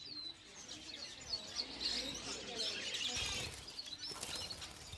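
Budgerigars chirp and twitter busily while wings flutter and flap nearby, a lively, continuous chatter of high tweets.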